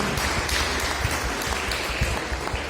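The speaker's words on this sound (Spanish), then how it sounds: "Denle un aplauso fuerte a su Señor." A church congregation claps loudly and continuously, a dense close burst of applause filling the room.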